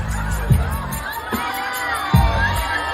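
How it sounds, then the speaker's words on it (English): A crowd at a sun-drenched food and wine festival fills the air with a steady loud hubbub of cheering and shouting voices, punctuated by a few low thumps. "Look at this crowd building up. It's getting a little loud over there."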